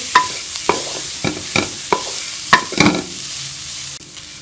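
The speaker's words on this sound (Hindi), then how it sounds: "इसको सारे मसाले के साथ अच्छी तरह से मिक्स कर लेंगे।" A spoon or spatula stirs mashed potatoes with spices in a pan for chana samosa filling, giving a series of distinct scraping knocks roughly every half second over a soft sizzle, close and without voices, ending in a quieter tail.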